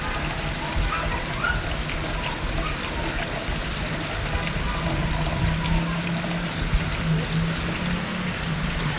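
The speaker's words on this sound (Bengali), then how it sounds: "তো আমার হাজব্যান্ড আবার একটু বাইরে দেখাচ্ছে যে বৃষ্টি হচ্ছে" Heavy rain pours outside in a dense, steady hiss with water splashing on surfaces, continuous and fairly loud throughout.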